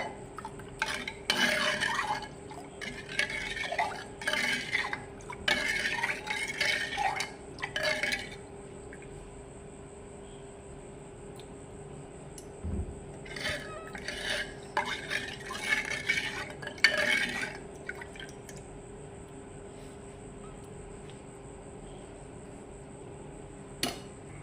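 A spoon stirring turmeric powder into a lemon pickle mixture in a pot, with intermittent bursts of scraping and clinking strokes separated by quiet pauses, fairly close and without talk.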